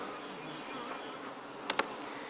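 Honey bees buzz steadily around beehives in an open apiary, a dense close hum with a couple of individual bees zipping past.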